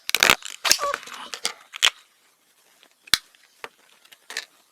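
Scissors snip open plastic packaging around rolls of coloured adhesive tape: a quick cluster of crisp cuts and rustles up close, then sparser single snips after a brief pause, with no speech.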